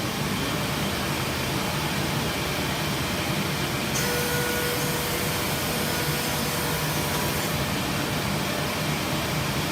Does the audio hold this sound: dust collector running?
yes